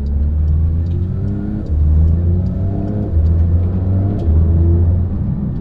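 A Porsche GT3 RS sports car engine revs and accelerates up through the gears in loud, close, steady pulls, with brief dips at each shift and no talking.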